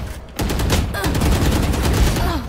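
Rapid bursts of gunfire from a VALORANT match, loud and close, firing almost without pause for about two seconds after a short quiet start.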